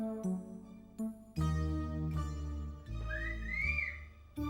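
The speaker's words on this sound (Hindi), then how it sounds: "ये लफंडर उसे देख के सीटी बजाता है।" A person whistles in a Hindi drama scene, a brief rising and falling whistle that rides over a steady music background with sustained tones and sharp accents.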